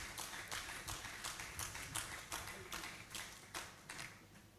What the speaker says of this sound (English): Please, let's clap for the Vice Chancellor.